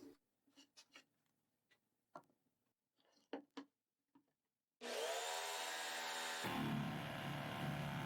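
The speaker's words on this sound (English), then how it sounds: "Using my 3/4 inch Forstner bit, I started a hole for my jigsaw." A 3/4 inch Forstner bit drills into a workbench top after some soft knocks and handling sounds, the drill motor then whirring loudly and steadily as it bores, close up with no talking.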